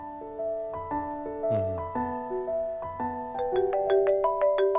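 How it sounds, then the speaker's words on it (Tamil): A mobile phone rings on and on with a melodic ringtone, its stepped electronic tones repeating steadily and fairly loud, with no voices over it. "ஃபோன் விடாம அடிச்சுக்கிட்டே இருக்கு."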